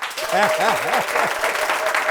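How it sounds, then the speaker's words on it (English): Applause from a studio audience in a talk-show game room, a dense steady clatter of clapping with a voice rising over it early on. "Clap for me first, then I'll show you."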